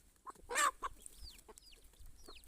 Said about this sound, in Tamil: நம்ம சேவலுக்கெல்லாம் முத்துச்சோளம் தான் போட போகிறோம்